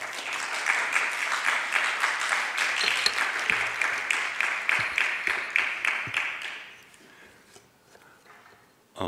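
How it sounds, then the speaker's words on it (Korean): Church congregation claps in welcome for a professor; a rhythmic round of clapping runs for about six seconds, then fades to quiet, and a single sharp sound comes at the end. "우리 뜨거운 박수로 함께 환영해 주시면 좋겠습니다"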